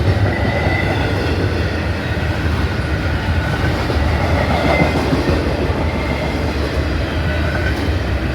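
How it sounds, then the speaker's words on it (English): A BNSF intermodal freight train loaded with trailers and containers rolls steadily past up close, producing a continuous loud rumble with a rhythmic clickety-clack of wheels on rail. "This is the pig train, y'all."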